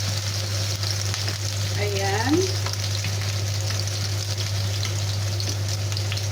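Chopped garlic sizzles in hot oil, a steady frying hiss with a brief stir or scrape near the middle and a constant low hum underneath, no talking.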